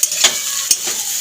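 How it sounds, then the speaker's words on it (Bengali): Fried prawns and red-fried potatoes are tossed together in a sizzling pan, giving a loud, close hiss with two distinct spatula scrapes. "নেড়ে চেড়ে একসাথে করে নেবো"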